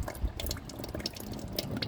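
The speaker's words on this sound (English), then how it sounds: "just kind of turn that out. It should drain the radiator for you." Coolant draining from the radiator drain plug of a Mitsubishi Evo 8 during a radiator swap, a close trickle with irregular drips and small splashes heard alone.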